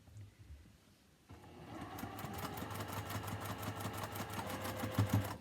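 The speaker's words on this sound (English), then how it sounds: "back to sewing the seam." After about a second of quiet, a sewing machine stitches a quilt seam on a Hunter's Star coat, its rapid, steady needle rhythm running close and continuous to the end.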